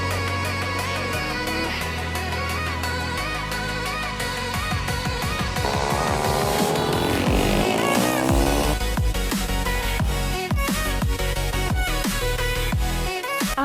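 Motorcycle on warm-up laps around a race track, engine pitch climbing and dropping through gear changes as it passes, loud and continuous with a sweeping rise midway, no talk.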